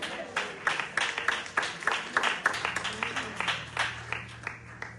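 A church congregation breaks into steady applause at a family service, a moderate wash of many hands clapping with a low hum underneath.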